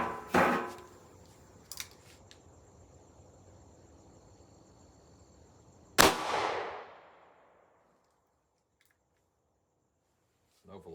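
A .38 Special revolver firing a Barnes 125-grain TAC-TX all-copper bullet into a gel block, a single sharp loud report with a long decaying echo outdoors, preceded by faint handling clicks.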